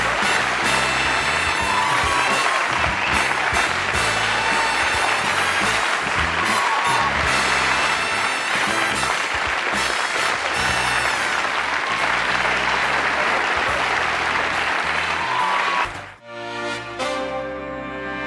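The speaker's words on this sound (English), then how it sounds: "I'm humbled by that applause." Loud, sustained applause and cheering from a late-night television studio audience, a thick roar of clapping that runs steadily before cutting off abruptly near the end.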